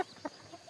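Local free-range chickens, a hen sheltering her chicks on a farm, make a few soft, faint clucks spaced out over a quiet moment.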